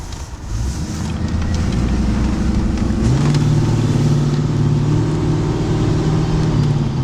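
The Stage 3 4.6 V8 engine of a Land Rover Defender 90 drones steadily while driving. Its deep rumble grows fuller partway through, under constant cabin and wind noise.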